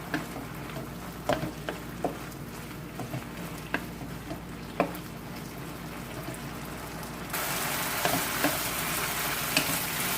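Chicken pieces, with a splash of soy sauce, frying in a pan for rice with chicken and vegetables: a steady close sizzle with scattered pops and stirring scrapes, growing louder near the end, with no talking.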